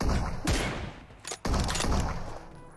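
Pump shotgun blasts fire in a video game, two heavy booms about a second apart, loud and close, each followed by a rumbling tail over continuous game noise.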